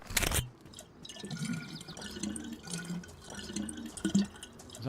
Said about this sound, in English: It's fancy how you can talk while you're drinking the water.